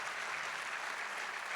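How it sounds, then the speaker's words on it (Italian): An audience at a Fondazione Nord-Est round-table event welcomes Veneto governor Luca Zaia with applause, a faint, even wash of many hands clapping that stays steady throughout, with no talking. "ci ha raggiunti il governatore del Veneto Luca Zaia, che accogliamo con un applauso"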